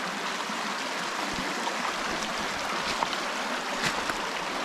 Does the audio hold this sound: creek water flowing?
yes